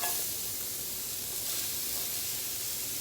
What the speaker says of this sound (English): I'm just going to start batch cooking some onions. So I'm going to throw the onions on here.